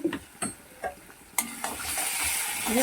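Coriander and cumin powders are sautéed and stirred for katla fish kalia. A spoon scrapes and taps the pan in a few distinct strokes, then a broad, steady sizzle rises and holds, close and moderately loud, with no talking.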